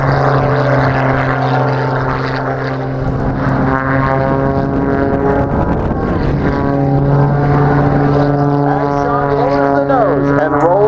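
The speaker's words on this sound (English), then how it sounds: "demonstrate for you the world's smallest inside loop. We call this the alley-oop." An aerobatic propeller airplane flies a tight inside loop at an airshow, its engine droning loudly and steadily with shifting pitch as it climbs and turns, while an announcer talks over the public address throughout.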